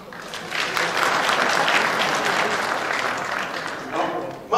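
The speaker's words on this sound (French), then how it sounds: "je vous suggère de tous vous applaudir." Audience applauding at a French-language talk, dense sustained clapping filling the room at fairly loud level for several seconds.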